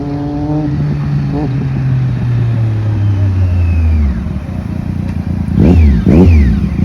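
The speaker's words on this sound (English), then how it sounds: "hear the noise of the Two Brothers, the loud engine sound that it makes" A Triumph Daytona 675 motorcycle with a Two Brothers aftermarket exhaust revs and drops with a loud, throaty note, its pitch sliding down, then rising in sharp blips near the end, close by.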